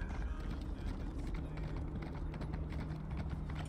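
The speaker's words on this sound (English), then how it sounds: "God, this horse is so slow." Horse hooves in the Elder Scrolls Online video game, a rapid, steady clip-clop of a galloping mount mixed with mechanical game sounds, continuous and close throughout.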